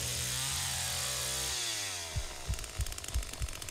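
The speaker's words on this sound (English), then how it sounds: "Alright, so let's start this chainsaw up" A chainsaw in the Texas Chainsaw Massacre video game idles and winds down, then sputters through a series of rough rhythmic pulls and pops as it tries to start, no talking.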